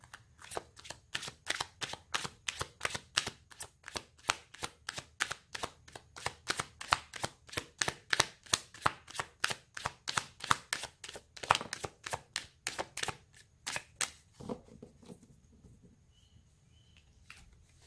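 Tarot cards are riffled and shuffled in a fast, even run of crisp snaps for about fourteen seconds. A few soft card slides follow, then near quiet.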